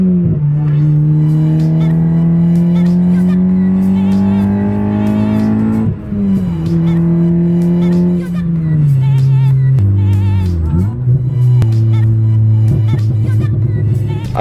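A 2012-15 Honda Civic Si with a bolt-on short shifter drives hard, its engine droning loudly and steadily, then dropping and rising in pitch through several distinct downshifts with rev changes.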